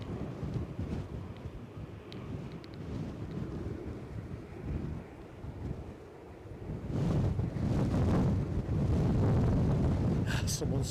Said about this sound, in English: Someone switched the wind back on.